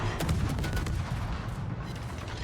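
Naval gunfire booms and rumbles in World of Warships as a battleship fires high-explosive shells, a loud dense burst of cannon blasts rolling over continuous game noise.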